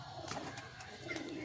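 Pigeons cooing at a loft of racing pigeons, soft repeated coos with a few brief calls, fairly faint against a quiet outdoor background.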